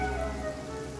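Heavy rain in Genshin Impact falls as a steady, dense hiss of drops hitting surfaces, moderately loud and continuous with no voices.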